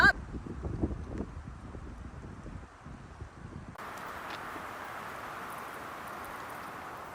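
Strong wind gusts sweep across a campsite in a remote Michigan state park, a steady broadband roar that builds and then holds constant, with rustling and buffeting close to the microphone.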